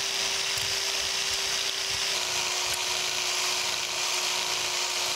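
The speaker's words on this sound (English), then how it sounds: "By scraping this area, I'm lowering it down by a very small amount" Hand scraping of a metal planer cross head dovetail gives a steady, close, bright hiss-like rasp that continues throughout with no pauses, alongside a faint constant hum and no talking.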